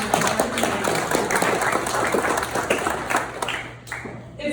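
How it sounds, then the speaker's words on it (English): Dense applause from an audience fills the whole stretch, steady and fairly loud with a low constant hum beneath, easing slightly toward the end. "can we do a round of applause for this, guys?"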